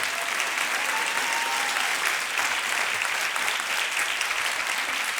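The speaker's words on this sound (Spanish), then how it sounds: "Dan un aplauso al Señor" A church congregation breaks into sustained applause during a sermon, a thick, even roar of many hands clapping that holds steady from start to finish.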